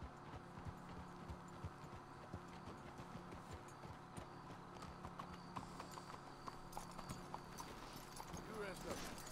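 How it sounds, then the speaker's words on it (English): Horse hooves clip-clop steadily in Red Dead Redemption 2, a continuous, faint, even rhythm running throughout under game ambience. "Let's hitch the horses up ahead."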